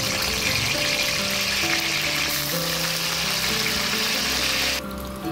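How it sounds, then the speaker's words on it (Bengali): Eggplant frying in hot oil in a wok gives a loud, dense, continuous sizzle close by, easing slightly near the end. "এবার আমরা বেগুনগুলো ভেজে নেব।"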